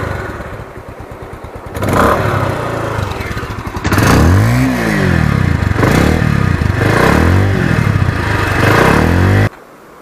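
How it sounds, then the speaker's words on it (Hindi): A motorcycle engine idles, then revs hard several times in repeated rising and falling bursts, loud and close, before cutting off abruptly at the end. "अब सुनाते हैं आपको इसका एग्जॉस्ट नोट।"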